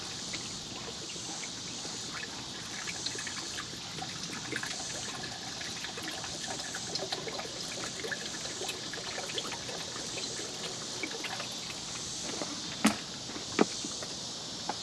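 Liquid pours steadily into a pan at a hot tent campsite, a soft continuous trickle heard alone at low level, with a couple of sharp clinks near the end.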